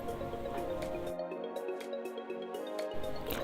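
Water pouring into bottles in a home kitchen, a steady trickling fill with small drips and gurgles continuing close by for several seconds.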